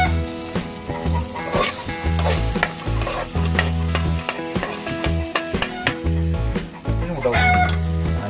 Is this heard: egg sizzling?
yes